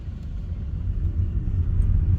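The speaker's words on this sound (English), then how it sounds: "Start moving your car now." A learner's car pulling away from a stop during a driving lesson near Horsforth, Leeds, its low engine rumble building steadily and staying close, with no talk over it.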